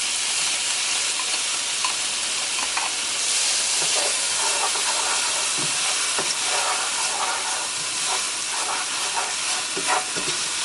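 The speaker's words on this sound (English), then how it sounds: "And now we're gonna go ahead and put in our veggies." Vegetables for shrimp empanadas sizzling in a frying pan, a continuous close hiss with occasional stirring clicks and pops, no talking.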